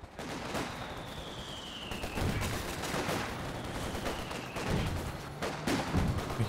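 Video game battle with grenades and gunfire, a dense stretch of bursts and blasts that repeat without pause throughout, loud and close, with a thin high whistle sweeping through twice.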